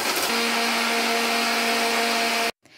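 Electric grinder whirring at high speed as green chilies, mint leaves, coriander seeds, cumin seeds, cloves and peppercorns are ground into a paste, a steady loud motor drone with a constant hum that cuts off abruptly near the end.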